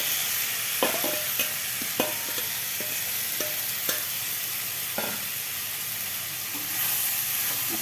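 Sautéed mushrooms stirred into a frying pan with carrot, onion, garlic and ginger, a soft sizzle under repeated scraping and clinking of a spoon against the pan.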